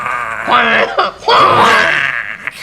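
A person's voice imitates a screaming goose, giving two loud, strained, bleating shrieks close to the microphone, the second longer than the first.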